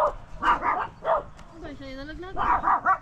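A dog gives short barks and a rising whimpering whine, close by, mixed in with people talking over it.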